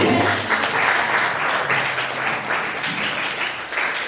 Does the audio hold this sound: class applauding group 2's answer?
yes